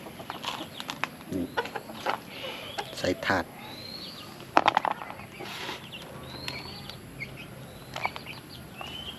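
Silkie chickens cluck and chirp while feeding on protein feed, with scattered pecking and rustling close by and a person talking over them.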